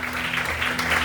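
Congregation applauding in a church after a sermon, a steady wash of clapping at moderate distance that continues without pause for the whole moment.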